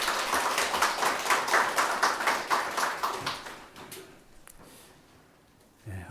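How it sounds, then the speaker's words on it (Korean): A church congregation applauding during a service, a burst of close rhythmic clapping that fades out after about four seconds into quiet room tone. "우리 하나님께 감사와 영광의 박수 올려드리겠습니다"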